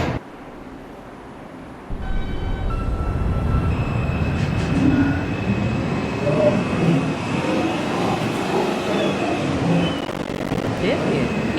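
An R142 2 subway train pulls out of a station on the IRT line, its motors and wheels building into a loud, continuous rumble with a brief whine and rail squeal, heard from inside the car, with announcement speech at the start.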